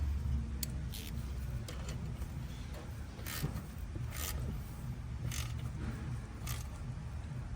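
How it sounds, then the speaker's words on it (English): A 13 mm wrench ratchets on a bolt of a 6L90 transmission during a rebuild, giving several short, faint clicking strokes over a steady low background hum. "Now I'm gonna just tighten it down with the 13"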